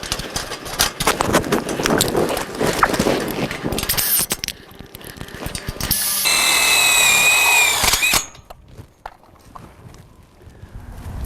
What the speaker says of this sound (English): And now we will attach the hoops to the bottom frame with Tex screws.